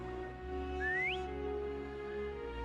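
A Wuthering Waves character whistles once to call Foam, a short clear upward-sliding whistle heard alone over soft steady game ambience and music.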